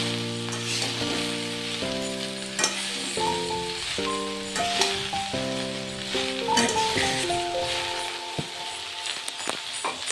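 Gourd is stirred into a sizzling spice tempering in a pan, giving a steady hiss of frying with scraping stirs, while melodic music plays over it throughout.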